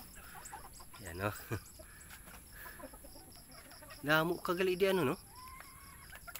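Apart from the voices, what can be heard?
native bakulod chickens clucking on a farm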